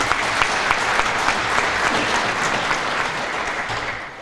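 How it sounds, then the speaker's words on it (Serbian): An audience at a book promotion applauds with loud, dense, sustained clapping that fills the room from start to finish, easing off slightly at the very end. "Molim vas da i njega nagradite aplauzom."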